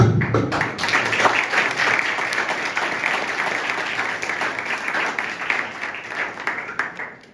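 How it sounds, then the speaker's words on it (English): An audience at a school event honouring a student who placed second in SSC-II exams bursts into sustained, dense applause, steady and close for several seconds before tapering off. "First, we must give him a big applause, then we start."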